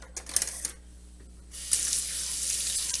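Cold tap water splashes over a raw turkey being rinsed in a kitchen sink, a few brief clinks and splashes first, then a steady, close rush of running water.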